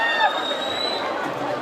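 A crowd at the Surajkund Gurjar Mahotsav live show in Faridabad cheers and claps in a dense, continuous roar, with voices mixed into the noise.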